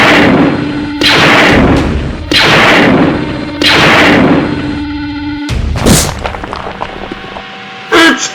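Animated superhero battle scene with a team firing weapons at a moving target: repeated loud bursts of gunfire in several long volleys, ending in a sharp crash and scattered impacts, without talk.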